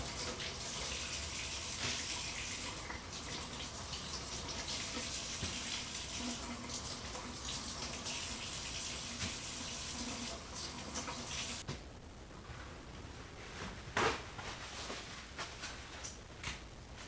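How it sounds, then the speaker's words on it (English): Cold tap water runs steadily while potatoes are rinsed, a continuous close splashing rush that drops in level partway through, with a brief clatter near the end. "Make sure you wash them off in cold water."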